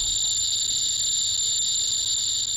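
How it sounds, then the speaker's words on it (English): A Geiger counter's audio alarm sounds as a continuous, loud, high-pitched electronic tone that holds steady without a break. "They sent the Geiger counter needle to the very end of the scale and triggered an audio alarm warning the user to leave the location at once."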